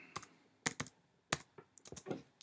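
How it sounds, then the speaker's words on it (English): A computer keyboard is tapped in a quiet room, giving a handful of sharp, close clicks in an irregular rhythm with no voices. "I'll also press F8 on my keyboard."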